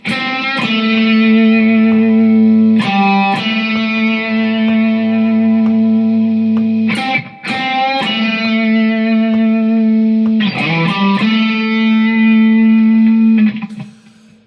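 Sustained electric guitar blues licks in A drenched in effects and distortion, with a few bends and slides, played alone with no talking.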